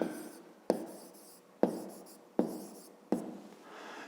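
Pen strokes on paper while working a fifth-grade math exercise: five short, sharp scratchy marks spaced roughly evenly, each fading quickly, quiet and close with no voices.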